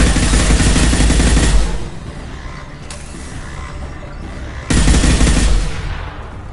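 Rapid automatic gunfire rattles loudly in a sci-fi shooter video game, two long sustained bursts with a quieter mechanical hum between them and no voices over the shooting.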